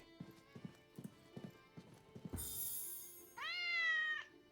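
A cat meows twice in a video game, a short high call followed by a longer wavering one, after a run of rhythmic clip-clop hoofbeats, all fairly close and without talk.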